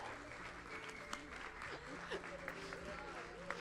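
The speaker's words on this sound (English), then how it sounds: "would you give her a round of applause?" An audience applauds at a church Mother's Day luncheon with a dense, even patter of clapping at a fairly low level, a few sharper claps standing out and voices faintly audible underneath.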